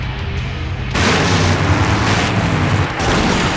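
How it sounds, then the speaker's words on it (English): An explosion in the 1995 PC adventure game Full Throttle bursts in suddenly and loud, then rolls on as a dense, sustained roar that stays at full strength, with no talking over it. "Now that's an explosion, ladies and gentlemen."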